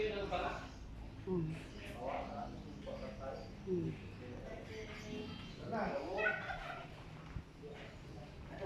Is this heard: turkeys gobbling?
yes